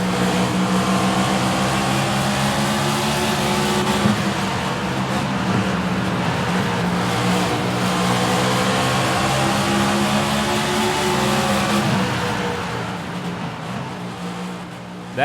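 Onboard NASCAR race car engine at Bristol Motor Speedway, Kevin Harvick's car droning loud and continuous with rising and falling pitch through laps on the short oval, easing off near the end.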